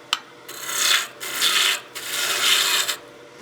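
A spindle roughing gouge cuts wood on a lathe while turning a Christmas gnome, making a steady hissing, rasping shear in three sustained passes with short pauses between, close and fairly loud, no voices.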